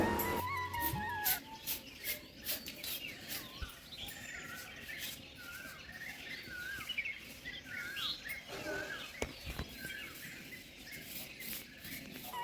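Many small birds chirp and tweet continuously, a busy overlapping chorus with no talking, moderately faint with some rustling.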